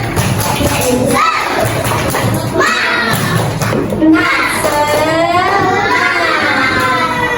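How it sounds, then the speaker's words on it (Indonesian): A classroom of primary school children does a rhythmic spirit clapping chant, loud voices shouting together in time with clapping and thumping close by. "Ada yang tahu nggak tepuk semangat?"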